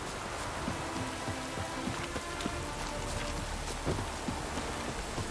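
Steady rain falls and patters on surfaces, a dense, even hiss with scattered close droplet taps, moderately quiet and unbroken throughout.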